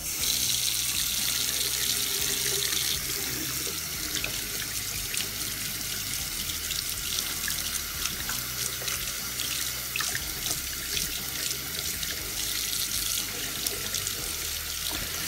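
Water running steadily from a sink tap while eyeglasses are rinsed, a close, continuous hiss and splash with slight fluctuations as the stream hits the lenses, no talking over it.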